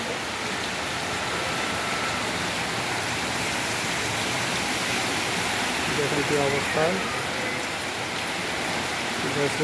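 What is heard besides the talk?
heavy rain in Jaipur, Rajasthan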